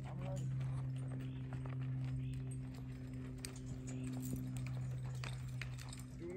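A mule walks outdoors, its hooves giving soft, steady footfalls beneath a constant low hum, with people talking over it.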